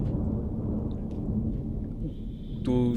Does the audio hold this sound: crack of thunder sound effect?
yes